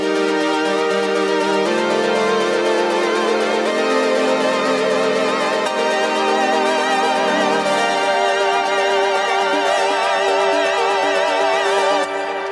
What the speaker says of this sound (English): And then the synths sound like this.